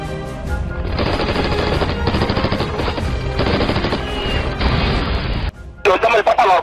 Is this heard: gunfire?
yes